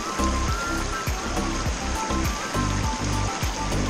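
A clear, cool stream in Bach Ma National Park, Vietnam, rushes and gurgles steadily nearby, a dense continuous wash of water with a subtle churning rhythm.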